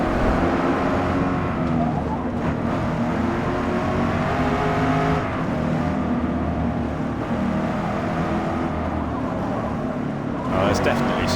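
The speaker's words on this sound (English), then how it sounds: "We want to hear some engine sound, don't we?" Car engine in the Forza Motorsport racing game, droning and revving continuously with rising and falling pitch, loud and constant throughout, with a brief burst of higher noise at the end.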